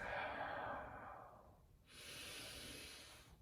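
Slow breathing during child's pose in a beginner yoga flow: one long, soft exhale fades out, then a fresh airy inhale starts after a brief pause, close and quiet.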